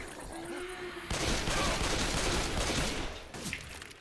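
Rapid, dense automatic gunfire in Left 4 Dead 2 erupts after a quieter opening and rattles on loud and continuous for about two seconds before easing off, with a few scattered shots after.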